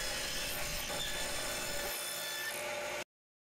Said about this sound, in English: And now I can start cross-cutting the blanks.